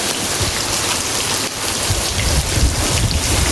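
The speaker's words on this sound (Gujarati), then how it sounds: "ત્યાં વરસાદ આવી ગયો છે. જો નેવા પડવા મીયા છે વરસાદના" Heavy monsoon rain pours off the roof eaves of a farmhouse, a loud, dense and steady roar of falling water that never lets up, with no voices.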